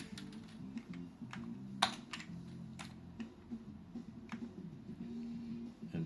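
Keys tapped on an Amiga 1200 keyboard while controls are mapped for MAME arcade games, giving several sparse, close clicks over a steady low hum, with one sharper press standing out.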